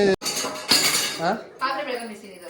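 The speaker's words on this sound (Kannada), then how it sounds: "ನಮ್ಮ ಮಮ್ಮಿ ಯಾವಾಗಲೂ ಪಾತ್ರೆ ಬೆಳಗೋದು" Dishes, pots and cutlery clink and clatter during washing in a short burst of close metallic knocks, with a voice talking over them.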